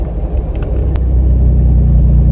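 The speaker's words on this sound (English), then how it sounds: "and now I can remotely control the exhaust valve." Exhaust of a 1997 Toyota 4Runner with the exhaust valve open while driving, heard from inside the cabin as a loud, steady low rumble and drone with no talking.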